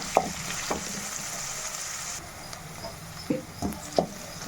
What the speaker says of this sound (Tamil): வெங்காயம் நல்லா பொன்னிறமாக வதக்கணும்னு அவசியம் இல்லை ஒரு ரெண்டுலேருந்து ஒரு மூணு நிமிஷம் வதக்கினா போதும்